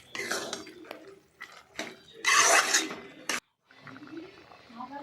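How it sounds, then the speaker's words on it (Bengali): Food being stirred in a cooking pot, scraping and clinking of a spoon against metal in short bursts with a louder rattling stretch, followed by a brief silence and faint background sounds. "ভালো করে নাড়াচাড়া করতে হবে।"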